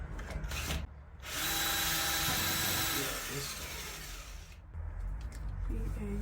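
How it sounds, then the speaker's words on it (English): A power drill whines loudly and steadily, deepening a bolt hole in masonry for several seconds, stopping briefly between bursts. "Now I'm going to drill the hole a bit deeper, ready for that bolt."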